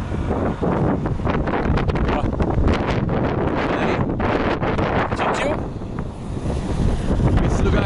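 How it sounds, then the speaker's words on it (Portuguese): Strong gusts of wind buffet a camera microphone outdoors beside a truck and trailer, producing loud, continuous rumbling and flapping bursts, while people talk underneath. "Olha a ventania."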